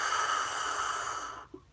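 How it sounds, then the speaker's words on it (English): A single long, deep breath is drawn during a meditation stretch, breathy and close, then fades into near silence. "get some big breaths in."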